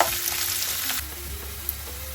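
Onions frying in a pan for chicken do pyaza, a steady broadband sizzle with a brief stir or scrape, close and continuous with no talking.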